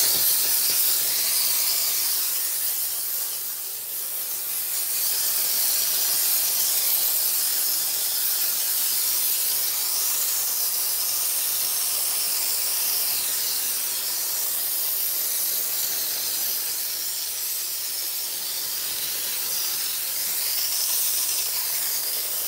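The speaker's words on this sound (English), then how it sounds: "I turn my steamer on." A hair steamer runs in a steady, loud hiss from start to finish, with no talking over it, during a wash-day conditioning treatment.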